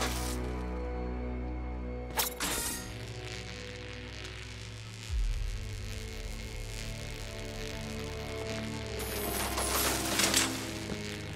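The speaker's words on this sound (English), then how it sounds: "The counterweights move further when I step on the pads." Counterweights shifting in Batman: Arkham Knight as pads are stepped on, giving mechanical clanks and ratcheting grinds with a deep thud partway through, set over a steady low game hum.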